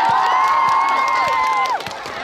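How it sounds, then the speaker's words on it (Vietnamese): The crowd at a Hòa Bình village volleyball match between Yên Trị and Hùng Sơn cheers loudly in a sustained, held roar that tapers off abruptly near the end. "Mọi người đã vỗ tay rồi."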